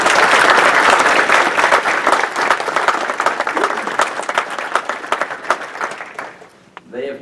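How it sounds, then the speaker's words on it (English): Audience at a scout recognition ceremony breaks into sustained, dense applause, loud and steady before thinning out toward the end, with a few voices mixed in. "So let's give them a round of applause."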